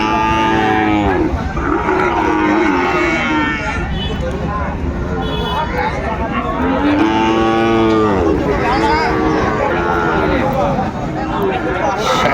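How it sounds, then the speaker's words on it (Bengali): Sahiwal bull calf at a cattle market in Dinajpur mooing in long, loud drawn-out calls, several in a row across the clip, over a constant crowd murmur and voices. "শাহিওয়ালের ষাঁড় বাচ্চা আমরা দেখছিলাম"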